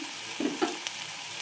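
Food fries in a pan over a medium gas flame while a utensil stirs it. A soft, steady sizzle runs underneath, broken by a few short scraping strokes.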